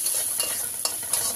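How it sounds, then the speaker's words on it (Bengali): Salted fish frying in oil in a Bengali kitchen pan while being stirred, a close sizzle punctuated by three sharp scraping strokes of the spoon. "এই যে কি সুন্দর করে ফ্রাই হতেছে দেখেন।"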